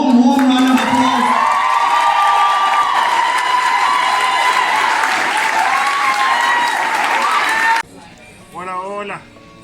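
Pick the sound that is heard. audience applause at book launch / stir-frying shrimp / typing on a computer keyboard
audience applause at book launch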